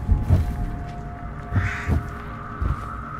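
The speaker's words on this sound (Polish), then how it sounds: "Kurde, jeszcze durne wrony." Crows caw in the horror game Through The Woods, a few separate harsh calls spread across the moment over a low rumbling ambience, with a steady tone running underneath.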